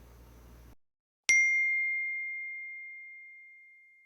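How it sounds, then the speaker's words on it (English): A single bright electronic ding from a phone notification rings out after a brief silence, its clear tone fading slowly over several seconds. "Suddenly, there's the sound of his phone's notification."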